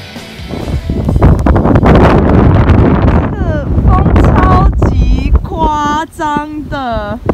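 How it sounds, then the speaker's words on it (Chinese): Strong wind of a snowstorm near Abisko, Sweden, roars and buffets the microphone in loud, heavy gusts, with voices calling out over the rush in the second half. "觉得这边是在下大风雪吗？"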